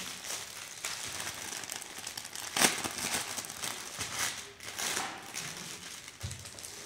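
Plastic foil wrapping around a silk scarf crinkles and crackles as it is opened, with irregular close rustles and one sharper crunch, fairly quiet and without talk.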